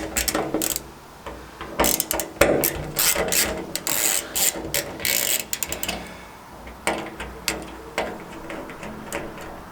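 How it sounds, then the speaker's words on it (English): A screwdriver backs out PZ2 screws on the fuel system of a Land Rover Defender 110 with a V8 conversion, making loud close ratcheting clicks in quick bursts and pauses with no talk. "Now to remove these 5 PZ2 screws and pull this out in one."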